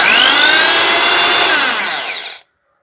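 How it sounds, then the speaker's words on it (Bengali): An electric drill machine running at full speed, a loud close whine that holds steady and then cuts off abruptly near the end. "মোটামুটি ড্রিল মেশিনটা এইভাবেই চলে।"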